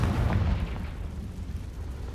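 Confringo fire spell exploding in the video game Hogwarts Legacy: a deep booming blast with a rumbling low-end tail that stays loud and dense for about two seconds, with no voices over it.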